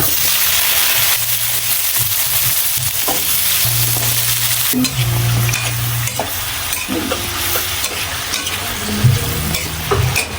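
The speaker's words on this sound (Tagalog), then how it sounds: "Magigisa na po muna ako. Ito na rin po itong upo." Bottle gourd (upo) sautéing in a pan, a continuous close sizzle with scraping and clacking of a spatula as the pieces are stirred and tossed.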